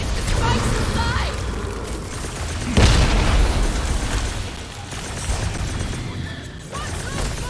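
Bomb blasts in the Guardians of the Galaxy video game: a sharp, loud boom near the three-second mark stands out over a dense, continuous bed of game noise and rumble, with smaller pops scattered through.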